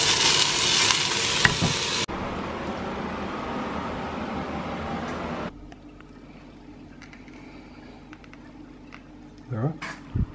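Food sizzles steadily in a tiny mini frying pan, a broadband hiss that runs loud at first, then softer and lower, with a few clinks near the end.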